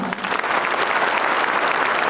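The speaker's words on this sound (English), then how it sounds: "Everyone, please give this talented young lady and young man a huge round of applause." An audience at a choir jubilee concert breaks into loud, dense applause, a continuous roar of many clapping hands with no talk over it.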